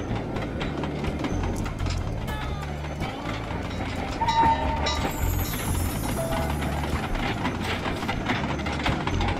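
Iron Horse train in the Sly Cooper 2 video game, a steady loud rumble with rhythmic clatter filling the whole stretch, with a brighter hiss rising partway through.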